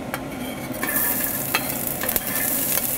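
Diced carrot, onion and celery sizzle steadily in oil in a soup pot, a loud close hiss with occasional stirring clinks and scrapes, and no voices.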